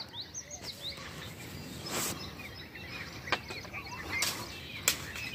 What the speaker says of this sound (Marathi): हे इथं बसलेली पक्षी गेली उडाली